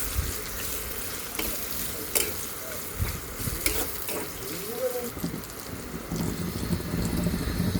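Chopped onions frying in oil in a wok, a steady dense sizzle with stirring clatter, close and continuous, growing slightly louder toward the end, with faint background noise.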